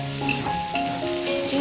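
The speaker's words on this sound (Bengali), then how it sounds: "চিংড়িটা সুন্দর করে লাল লাল করে ভাজতে হবে" Prawns fry in hot oil for a Bengali shorshe chingri, a loud, continuous close sizzle with faint scraping of stirring over it.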